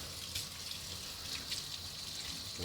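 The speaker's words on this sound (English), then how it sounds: "rinse out your brush" A brush being rinsed under running water while cleaning leather work boots, with a steady close stream of tap water and splashing for the whole short stretch.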